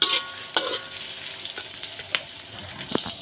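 Squid adobo stirred in a pan at a home stove: a steady frying sizzle with several sharp spoon scrapes and clinks at uneven intervals, close and moderately quiet.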